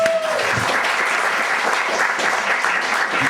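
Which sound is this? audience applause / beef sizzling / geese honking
audience applause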